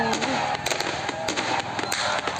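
Fireworks pop in an online game as a rapid series of loud crackles and bursts, densely layered over a steady busy background throughout the short clip.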